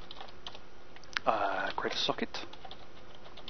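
Typing on a computer keyboard while writing a Python client program: quiet, uneven clicks of keys pressed at a slow pace, heard faintly under someone speaking.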